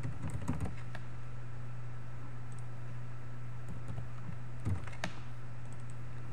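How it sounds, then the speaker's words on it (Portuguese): Fingers type on a new computer keyboard in a few quick clusters of clicks, separated by pauses, over a steady electrical hum with no one speaking. "Até acostumar com o teclado novo aqui não é fácil."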